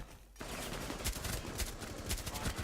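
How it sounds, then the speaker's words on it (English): Rainbow Six Siege game gunfire, a sudden burst of rapid automatic shots after a brief quiet start, loud and dense with repeated cracks through the rest of the moment. "Hit by enemy fire."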